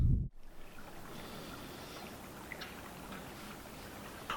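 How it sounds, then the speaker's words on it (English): A creek flows beside a huge 200-year-old witness tree with a 21-foot trunk, its water making a steady, soft broadband rush that stays even and fairly quiet throughout, with faint trickling detail and a short near-silent gap near the start. "this creek right here"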